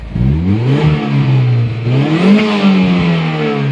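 A Mazda 323 GTX engine revs up and drops back twice in close succession, the pitch rising and falling with each blip, loud and near with no one talking.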